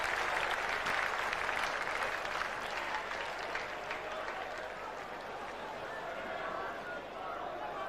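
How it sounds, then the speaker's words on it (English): A cricket crowd at Trent Bridge cheers and applauds during a Test match, loud at first then easing into a steady murmur, with a commentator talking over it. "So a big cheer here at Trent Bridge."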